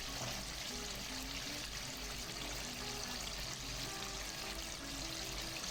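Breaded chicken for a zinger burger fries in oil over medium heat, giving a faint, steady, continuous sizzling hiss with no talking.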